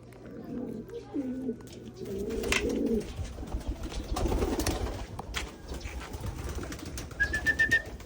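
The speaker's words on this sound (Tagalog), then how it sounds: "Lipad na lipad na mga kalapatids." Pigeons in free flight during recall training, with soft repeated cooing and bursts of flapping wings, fairly close and outdoors, alongside some background noise.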